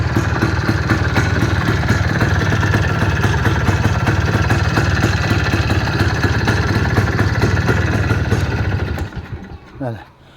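Close and loud, a Planeta 5 motorcycle engine idles with an even, rapid chugging beat for about nine seconds before cutting off, followed by a brief shuffle and a moment of quiet.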